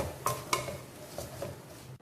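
Garlic and onion being sautéed in a pan: a metal spatula clinks sharply against the pan twice near the start, then softer scraping knocks follow over a low, faint background.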